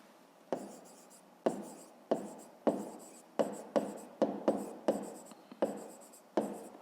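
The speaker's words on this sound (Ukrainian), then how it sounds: "Пишемо кілометри за годину." Pen or pencil writing by hand on paper while working a 5th-grade maths exercise, about a dozen sharp scratchy strokes in an irregular rhythm, close and fairly quiet, with no talk.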